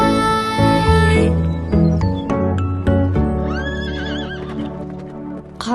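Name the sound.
Mugalzhar horse neighing and hooves in an animated film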